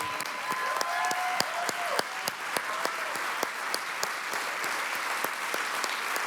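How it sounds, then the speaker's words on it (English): Audience applause at a school's late-night-show style State of the School event, steady dense clapping with a few sharper claps standing out, sustained throughout at moderate volume with no talking. "Let's keep that applause going, please"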